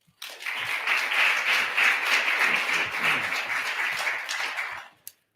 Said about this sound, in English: Please join me, warm round of applause to our Deputy Secretary Bates